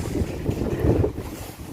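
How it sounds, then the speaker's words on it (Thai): Strong wind blowing outside a shopping centre after heavy rain, a loud, gusty rumble buffeting the microphone continuously without any voices. "หนาวค่ะ ตอนนี้ลมแรงมากเลย"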